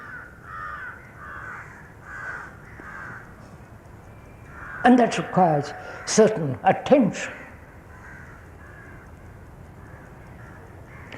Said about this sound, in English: If you're listening to those crows and to those birds